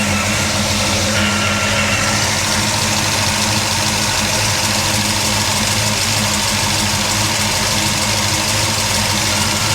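A Monte Carlo's engine idles rough with one spark plug wire off, a steady uneven rumble with knocking pulses running loud and close throughout.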